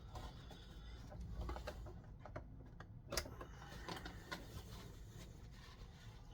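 A sewing machine, not a very fast one, stitches elastic onto wrestling tights with a faint, rapid mechanical ticking and clatter over a low hum, broken by a few louder clicks.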